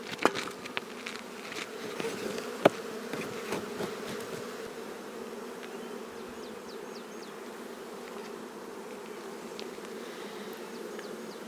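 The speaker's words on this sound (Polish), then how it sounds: "Na początku chcę trochę zgonić pszczoły" Steady, dense buzzing of many honeybees at an open hive close by, with a few sharper knocks and bumps early on, then a continuous even drone.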